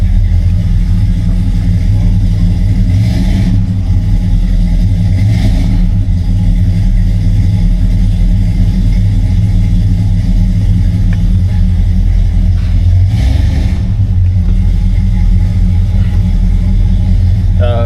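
A 1969 Buick Electra engine idling steadily with a deep, loud rumble throughout, a few brief swells of rev, heard from close by.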